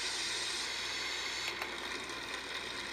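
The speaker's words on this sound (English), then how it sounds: "This is the white noise." Steady broadband hiss from the white noise setting of a sound machine, loud and even throughout with no pauses and no voices.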